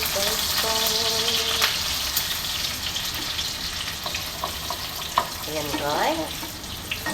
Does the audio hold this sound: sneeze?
no